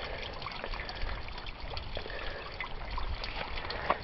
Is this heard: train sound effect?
no